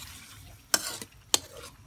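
Chicken tails cooking in a pan, with two sharp clanks of a utensil against the pan over a low, steady sizzle.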